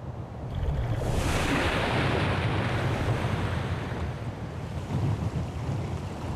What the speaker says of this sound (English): The geyser explodes from vents in the Earth's surface that run deep into the crust.